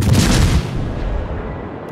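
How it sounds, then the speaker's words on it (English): A destroyer blows up in a naval warship game: a heavy low boom hits loud at the start and rolls off into a long rumbling decay, with no voices over it. "Destroyer blown up"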